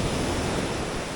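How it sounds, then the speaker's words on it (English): Whitewash waves crash onto a reef shoreline during lure fishing for tailor, a steady close roar of broken surf and churning water with no voices. "some waves crashing, it's stirring up the water a little bit, you got the whitewash"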